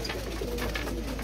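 A flying pigeon coos softly and continuously in a brief close call.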